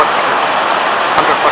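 The lower Nantcol waterfall, a drop of about a hundred feet, gives a loud, dense hiss of rushing water, a brief unbroken roar heard up close.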